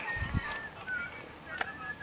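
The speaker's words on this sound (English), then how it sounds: "Adiola, I'm gonna roll with the geese." Geese honking outdoors, with repeated nasal calls spread across two seconds over a background of low rumble and faint speech.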